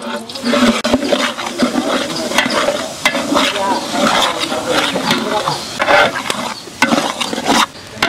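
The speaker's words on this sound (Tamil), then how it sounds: "அதே எண்ணெயில் என்ன பண்ணலாம், ரவை வறுத்து எடுக்க போகிறோம்." Semolina roasts in a mix of ghee and oil for rava kesari, cooked in large wedding-style quantity; loud, close stirring scrapes and clanks sound over a rushing sizzle, with occasional voices in the background.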